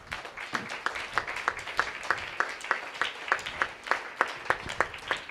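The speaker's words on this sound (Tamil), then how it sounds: "இதை ஒத்துக்கொள்கிறவங்க நல்லா கைத்தட்டி கர்த்தருக்கு மகிமை செலுத்துங்க." A church congregation at a New Year worship service in Tirunelveli claps hands in a quick, steady rhythm, each clap sharp and evenly spaced, moderately loud and sustained throughout.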